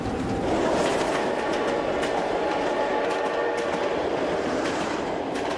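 A train rolls along rails with a steady, loud rumble and faint rhythmic clickety-clack of the wagons, continuous and without voices.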